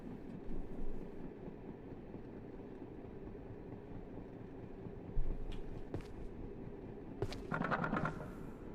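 A train rumbles steadily along in a friendslop video game, a low continuous rolling with faint clacks, a sharper clatter near the middle and a brief burst of metallic squeal close to the end.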